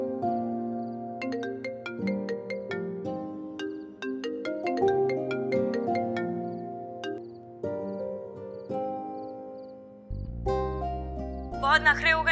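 Phone ringtone plays a bright, plinking melody of rapid repeated tones, loud and close, running steadily for several seconds before a deeper shift and a final flurry of chimes.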